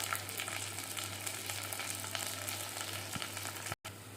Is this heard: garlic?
yes